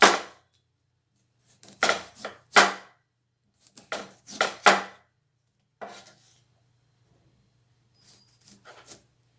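A knife slices turnip thinly on a cutting board in a quiet kitchen, crisp clustered taps in short bursts separated by pauses, close and clear with no talking.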